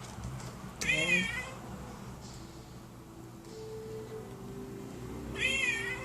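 A taco cat toy from an Exploding Kittens game box gives two short electronic meows, one near the start and one near the end, with quiet room tone in between and no talk.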